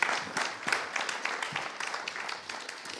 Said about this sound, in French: Je pense qu'on peut l'applaudir aussi.